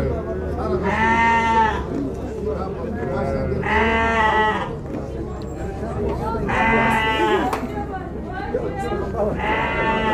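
Sheep and rams bleat at a livestock market in Shymkent, several loud wavering calls in bursts close by, with someone talking in between and the murmur of a busy market underneath.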